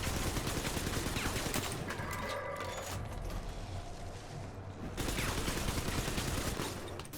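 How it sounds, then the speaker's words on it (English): A Gatling gun fires in the video game BioShock, a loud, dense, continuous roar of rapid shots that eases slightly midway and then surges again, with no talking. "Obligatory Gatling gun."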